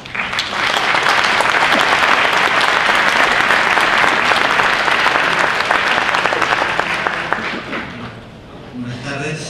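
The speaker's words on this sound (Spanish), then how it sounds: "Lo recibimos con un aplauso." An audience at the 2012 UDA congress applauds to welcome a speaker, a loud, sustained round of clapping that fades near the end as a voice begins.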